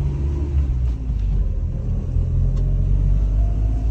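A car's engine hums with a low, steady rumble from inside the cabin during a driving lesson in Australia, pulling along in second gear with no sharp revving and no voices.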